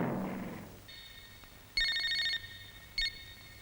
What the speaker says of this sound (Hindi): भाई, रामा का फोन है।